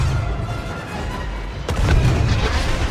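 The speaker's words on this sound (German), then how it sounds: "Da explodiert doch alles wunderbar." Explosions in the video game Star Wars Battlefront 2, a steady heavy rumble of booms and artillery-like blasts with a sharper burst partway through, loud and continuous with no talk.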